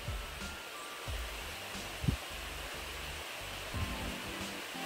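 The Saxon River stream on the Heaphy Track flows in a steady broadband rush, constant and fairly even throughout, with low rumbles from footsteps or handling and no talking.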